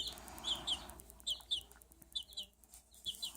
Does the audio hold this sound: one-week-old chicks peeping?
yes